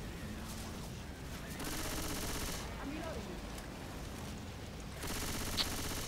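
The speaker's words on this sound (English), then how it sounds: "Alright, who just shot me?" Gunshots in Left 4 Dead 2 come as two stretches of rapid, crackling fire, fairly distant and low in level, over a steady game background.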